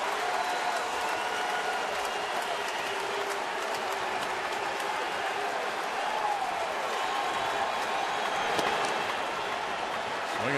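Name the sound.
baseball crowd cheering at Minute Maid Park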